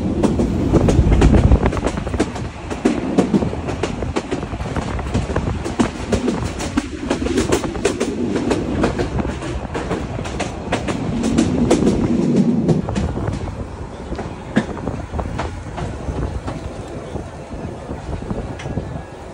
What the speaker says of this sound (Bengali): এই মুহূর্তে আমাদের 491 কলেজ ট্রেনটি প্রবেশ করছে তালোড়া স্টেশনে